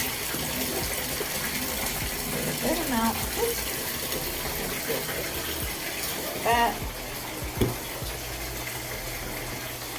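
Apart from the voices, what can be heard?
bathtub tap running water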